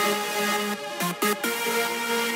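A dry, mono main lead synth with no reverb plays a short bright melody of held notes and a quick stepped run, close and upfront with no other sounds.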